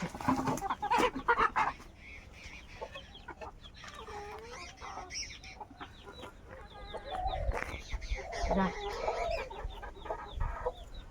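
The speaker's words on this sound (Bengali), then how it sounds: "মুরগিগুলো ছেড়ে দিলাম" Chickens being let out of their coop at a Sundarbans village home, clucking in bursts up close, with rooster-like calls mixed in and quiet household sounds around them.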